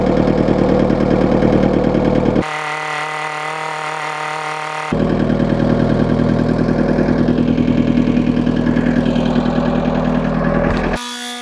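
A small engine runs steadily at close range after its fuel filter has been cleaned, a loud, buzzing drone that briefly drops in tone and level before returning to a rougher, higher roar, with no talking.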